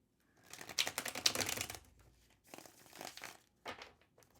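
Tarot cards being shuffled by hand, a run of crisp riffling and flicking bursts, close and fairly quiet, then a couple of shorter shuffles after a pause.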